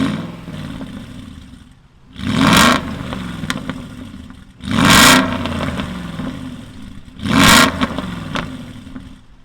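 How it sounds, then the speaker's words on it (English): A 2007 Aston Martin V8 Vantage 4.3 fitted with louder valves revs hard three times, each loud rising blast falling back to a rumbling idle between pulls, with no voices. "the noise a Vantage makes is something unheard of"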